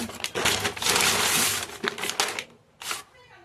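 Snack packet being torn open, with crinkly, crunchy plastic rustling in dense bursts for about two and a half seconds, then a short final crackle; loud and close, packet holding almonds, pistachios and chanachur.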